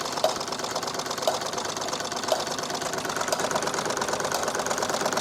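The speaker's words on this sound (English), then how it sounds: "I don't really like running my engines too fast." Wilesco D32 model steam engine running at a moderate pace, a steady mechanical chugging and clatter with a continuous hiss, faint ticking accents every second or so, close and alone.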